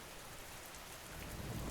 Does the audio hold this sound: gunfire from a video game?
no